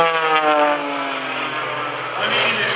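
A Wolf Pitts aerobatic biplane flown at an airshow, its engine giving a loud, close, steady droning buzz with a slowly falling pitch as it passes.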